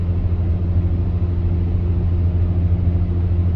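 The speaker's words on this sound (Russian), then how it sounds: "Как-то раз Крабан сказал, что вообще засыпает под шум обогревателя." A space heater runs with a steady low hum and broadband whooshing drone, close and constant with no change in level.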